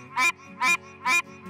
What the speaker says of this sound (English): That is the call of the Pine Barren tree frogs